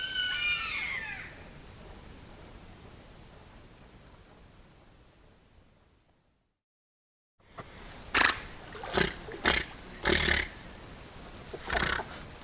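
A giant otter gives a run of short, gruff grunts in quick, uneven succession after a stretch of wind-like hiss and a brief silence, fairly close and with no talking over them.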